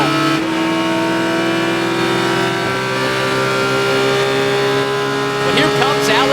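A Porsche GT4 race car engine roars at high, sustained revs on the final lap of a GT4 America race at VIR, loud and close with a shift near the start and a commentator talking over it.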